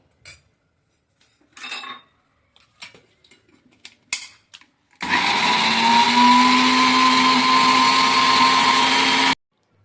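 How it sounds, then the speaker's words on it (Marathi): A kitchen mixer grinder whirs loudly and steadily, blending barnyard millet and sabudana into a batter for fasting appe and dosa, after a few light clinks and taps of utensils. "त्याला आता आपल्याला मिक्सरमध्ये मिक्स करून काढायचं आहे"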